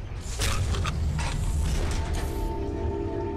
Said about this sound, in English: it made the sound that the dungeon is now cleared